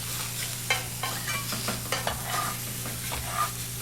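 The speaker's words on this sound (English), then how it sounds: "So the sausages are sauteing." Sausages saute in a pan, a steady sizzle with light, irregular utensil scrapes and taps as they are moved around, close and moderately loud.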